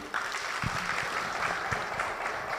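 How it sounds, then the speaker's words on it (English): Delegates at a national food systems summit in Kenya give a round of applause, a moderate, steady patter of many hands clapping in a large hall. "Let's give her a round of applause once again."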